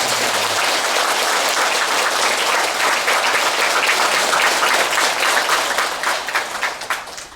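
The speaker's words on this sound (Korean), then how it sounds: "불자 여러분들께서는 모두 큰 박수로 스님을 환영해 주십니다." A congregation at a Buddhist Dharma service claps loudly to welcome a monk, a thick steady wave of applause that holds, then thins and fades out over the final second.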